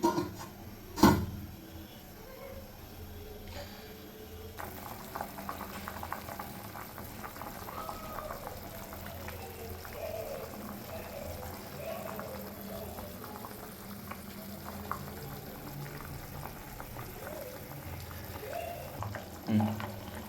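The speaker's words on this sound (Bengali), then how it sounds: "ঝোলটা আমার ফুটছে" Curry broth with potato and pointed gourd bubbles in a covered pot over a medium flame, a soft, steady simmer with a sharp knock near the start and another near the end.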